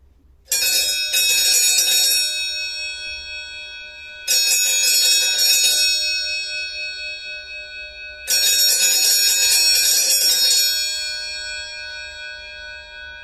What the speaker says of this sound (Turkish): bir adet Vatikan çanımız geliştirilmiş tipte ufak bir ses tabinisiyle paylaşmak istiyorum dostlar